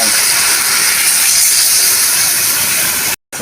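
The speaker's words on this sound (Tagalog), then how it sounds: "ibubuhos natin yung kanyang pinagbabaran" Pork marinade for pineapple-braised pork leg hits a hot pan after the meat is sautéed, giving a loud, steady sizzling hiss that runs unbroken for about three seconds before cutting off abruptly.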